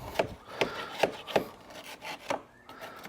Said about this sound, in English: Five-in-one paint scraper, here we come.